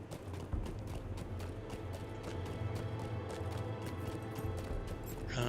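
Horse hooves clatter in a fast, steady galloping rhythm in the video game LOTRO, close and continuous over a bed of ambient game sound.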